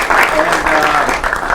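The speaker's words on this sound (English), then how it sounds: "Let's give him a round of applause" Applause for a speaker at a business leadership summit breakout session, a brief loud burst of clapping blended with voices.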